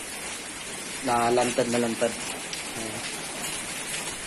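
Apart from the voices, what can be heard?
rain falling outdoors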